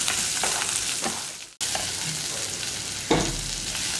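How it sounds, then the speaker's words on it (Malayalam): Onion and green chilli sautéing in oil in a pan give a loud, continuous close sizzle, with spoon stirs scraping through at intervals and a brief gap midway. "ഇനി സവോളയും പച്ചമുളകും ഒക്കെ ഒന്ന് വഴറ്റിയെടുക്കണം"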